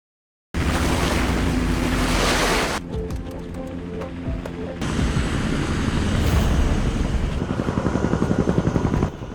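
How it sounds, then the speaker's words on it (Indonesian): A loud, steady roar of rotor wash and wind overhead, shifting midway into a rhythmic chopping thrum that builds toward the end. "suara helikopter terdengar dari atas mereka"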